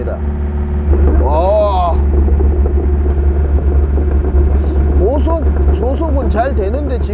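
A used piece of heavy equipment drives at high speed with a loud, steady low engine drone and rumble, while someone talks and exclaims over it.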